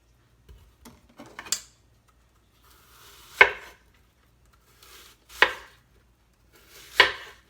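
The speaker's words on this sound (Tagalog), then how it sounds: "hiwain ko na siya." A knife chops through a peeled apple on a cutting board, a few light taps followed by three distinct, well-spaced firm thuds, close and clear with no talk.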